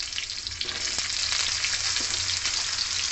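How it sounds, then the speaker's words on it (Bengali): Pointed gourd sizzles in hot oil for a vegetarian mixed-vegetable curry, a continuous close, even crackle with a few soft stirring taps. "পেঁপে অল্প ভাজার পরে দিয়ে দিলাম পটল,"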